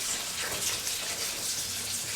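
A cold-water and starch-powder mix poured into a simmering pot of roasted hosta: a soft, steady liquid pour and gush, quiet and continuous, with no talking.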